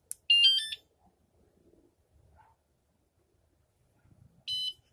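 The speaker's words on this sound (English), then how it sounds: "The second beep indicates that it is armed and ready." Wireless anti-theft alarm on a motorcycle chirping as it arms, two short high-pitched electronic beeps separated by about four seconds of near silence with faint handling noise between.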